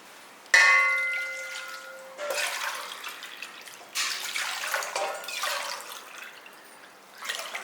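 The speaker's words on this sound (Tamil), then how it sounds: "இப்போ நான் 5 டம்ளர் அளவுக்கு தண்ணி ஊற்றுறேன்." Water poured from a tumbler into a cooking pot while making village-style sorghum kali, in several separate splashing pours with short pauses between them, close and fairly quiet.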